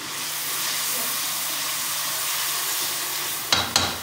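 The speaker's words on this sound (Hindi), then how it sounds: "थोड़ा सा हम इसको भुनाई करेंगे 2 मिनट।" A steady sizzling hiss from spices dry-roasting in a hot pan fills the clip, then two sharp scraping clinks of a utensil near the end.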